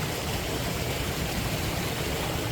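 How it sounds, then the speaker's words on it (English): Water rushes steadily through an old stone aqueduct carrying mountain water near Cusco, Peru, a dense, continuous broadband flow heard up close with no talk. "I bet this aqueduct carries all this water from the mountains here"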